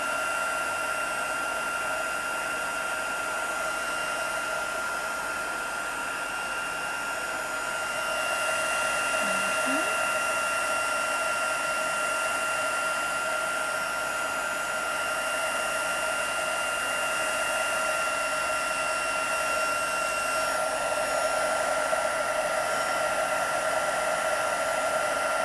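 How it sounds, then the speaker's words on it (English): A handheld craft heat tool blows hot air over a tatted lace and mixed-media project, a continuous steady whooshing hum with a fan whine that holds nearly unchanged throughout, close and moderately loud, shifting slightly in tone partway through. "we're just going to use that heat tool again"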